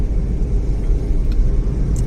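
A car rolls slowly along a road toward the beach past backwaters on both sides, a loud steady low engine and road rumble throughout with no talk.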